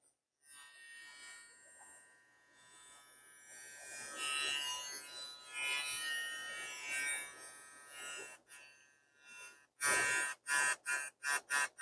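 An Oral-B iO Series 3 electric toothbrush runs with a faint, steady high-pitched whir, followed by a few short buzzing pulses near the end, quiet and close with no speech.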